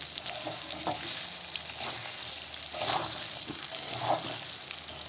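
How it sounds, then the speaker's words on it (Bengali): Salted food stirred with a spatula in a hot frying pan, a steady sizzle with soft scraping strokes recurring every second or so, close and alone. "মিক্সার করে নিচ্ছি খুন্তি দিয়ে"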